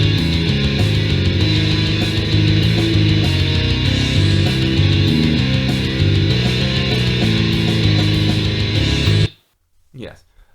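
Death metal bass line mimicking the rhythm guitar part, heard as a loud, dense distorted riff with chugging low notes for about nine seconds, then cutting out abruptly into near silence with a brief faint noise.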